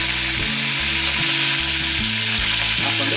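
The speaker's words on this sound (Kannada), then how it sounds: "ಸ್ವಲ್ಪ ಈರುಳ್ಳಿ, 2 ಕಡ್ಡಿ ಕರಿಬೇವು ಫ್ರೈ ಆಗಲಿ" Onion and curry leaves frying in hot oil, a loud, dense, close-up sizzle holding steady throughout with no talk.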